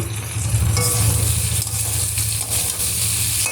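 Okra frying with onion and green chillies, a loud continuous close sizzle with a low steady hum beneath and occasional stirring scrapes, no voices.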